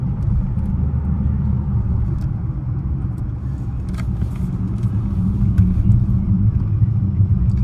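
A 2016 Bentley Continental GTC Speed accelerates smoothly on roads around West Palm Beach, its steady low engine and road rumble rising gently and continuously throughout with no pauses.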